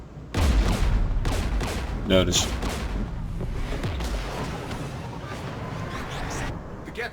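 A space-combat battle in Mass Effect, with Geth anti-aircraft guns near a jamming tower. A dense fusillade of gunfire and booming flak crackles in rapid bursts, loudest at the start, then stays heavy throughout while a voice briefly talks over it.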